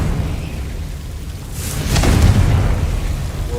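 A Confringo spell explosion in Hogwarts Legacy lands as a low, rumbling boom with a brief crackling burst, rising from a steady background hum and then fading.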